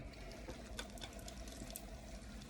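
Water sloshing and trickling over spinning clay on a pottery wheel during throwing of a one-piece planter, a steady wet wash with a low motor hum underneath and faint splashes.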